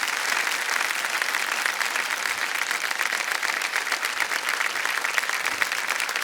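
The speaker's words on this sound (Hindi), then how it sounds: "तालियां बज जाए इनके लिए।" Studio audience applause on a televised quiz show, dense sustained clapping from a large crowd, loud and even throughout with no pauses.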